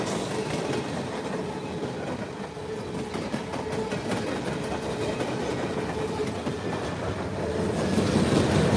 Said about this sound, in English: the rattling as the train goes by